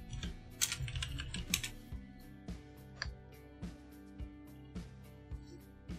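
Keys clack on a computer keyboard in short bursts, a quick flurry at first, then separate taps spaced about half a second apart, close and moderately quiet over a faint steady hum.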